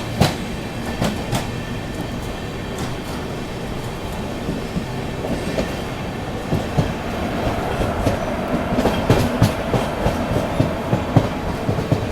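A Festival AC Special train on the Delhi–Patna run pulls out of Aligarh Junction, its steady rolling rumble heard from on board, with a clickety-clack of wheels over rail joints quickening toward the end.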